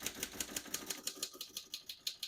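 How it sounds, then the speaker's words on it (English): Rapid, even keystrokes on a 1936 Royal O Model portable typewriter, about fifteen crisp clacks in quick succession, close and clear with no voices. "And finish typing."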